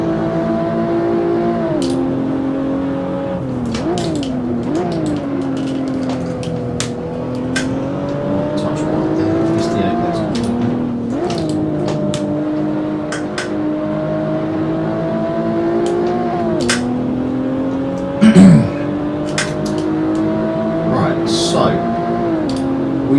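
A race car engine in the Assetto Corsa racing game, droning steadily and rising and falling in pitch through gear changes and corners, with someone talking over it.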